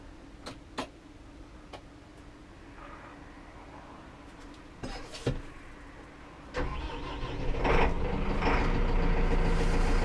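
A Massey Ferguson 5711 M Dyna4 tractor engine cranks and catches, settling into a steady idle rumble after a few clicks and brief bursts near the start.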